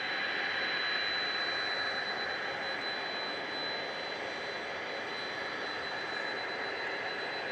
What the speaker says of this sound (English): And there's a plane you can hear in the background.